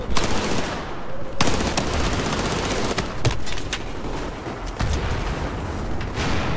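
Sustained automatic AK rifle fire in the shooter game Battlefield 4, with loud rapid bursts and a few sharper shots over a constant roar of battle noise.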